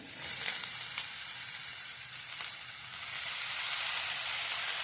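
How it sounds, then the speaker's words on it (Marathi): Onion frying in oil for a Marathi radish bhaji makes a loud, continuous close sizzle and hiss that swells slightly toward the end, with no voices. "आता कांदा चांगला तेलात भाजलाय यात चवीपुरतं मीठ भाजून घ्यायचं त्यात आपण भाजी घालून घेऊया"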